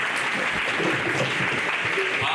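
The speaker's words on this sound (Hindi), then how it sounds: "एक और यार एक और अच्छी से ताली बजा दो" Students at a college applaud after a presentation on wastewater treatment, a dense and even roar of clapping that holds steady throughout, with faint voices underneath.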